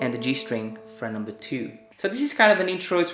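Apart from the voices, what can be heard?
No distinct noise like a dog, phone or traffic.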